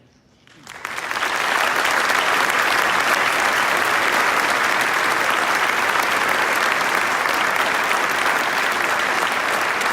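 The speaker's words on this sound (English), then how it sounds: "Another round of applause for State Representative Keith Wheeler" Applause swells in after a brief moment and holds steady, a dense, sustained clapping from a large crowd at a police recognition ceremony.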